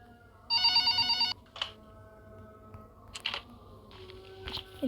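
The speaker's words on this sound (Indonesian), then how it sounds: "Tinggal tunggu telepon lagi." A telephone bell rings in one loud burst early on, followed by quieter clicks and scattered handling noises in a still room.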